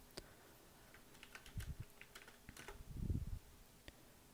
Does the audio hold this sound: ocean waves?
no